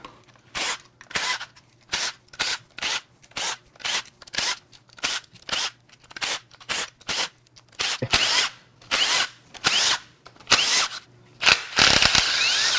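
A power tool unbolts the right-hand valve cover on a BMW N63 engine, firing in short regular bursts separated by brief pauses, about a dozen loud close whirring pulses with ratcheting texture, the last ones longer.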